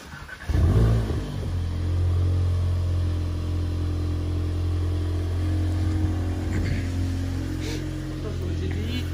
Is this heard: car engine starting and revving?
yes